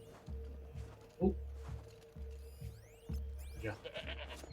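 Within the game Horizon Zero Dawn, a goat gives a short bleat partway through, set among rhythmic low mechanical thumps, clicking, and whooshing in-game effects at moderate volume.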